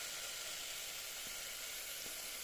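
Chopped potatoes and carrots sizzle steadily in a hot pan while a vegetable kurma is cooked, a constant close frying hiss with a couple of faint soft taps.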